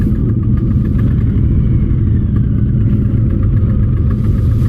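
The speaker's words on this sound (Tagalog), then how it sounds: "Napakalakas ng exhaust nito guys" A Harley-Davidson Heritage Classic 114 motorcycle with a Vance & Hines exhaust rumbles loudly and steadily up close, a deep continuous exhaust drone with no pauses and no voices.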